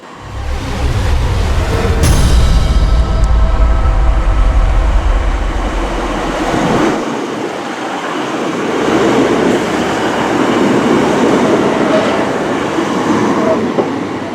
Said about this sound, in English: 150-001, the Pioneer Sprinter, is due in at Mills Hill now, and that's going towards Rochdale